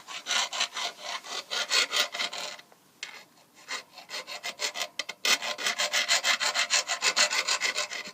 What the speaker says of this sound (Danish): Og så skal du file den her, hvor pedalen sad på